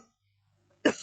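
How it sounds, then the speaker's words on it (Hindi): A single short, sharp cough from a male teacher during a Hindi practice class, close and abrupt, bursting out after a near-silent pause. "यार थोड़ा सा बोलने में जो समस्या आ रही है ना वो खांसी की वजह से है ना"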